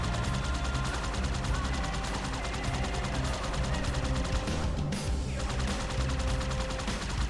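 Rapid automatic fire from the Ghost vehicle's guns in Halo 2 Anniversary, a dense continuous burst that runs steadily throughout with a brief dip partway.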